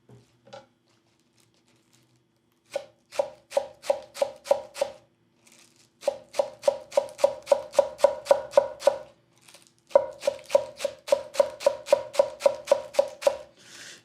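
A Yoshimi Kato Aogami Super nakiri knife chops scallions on a board in quick, crisp rhythmic bursts of taps, pausing briefly between runs, close and clear.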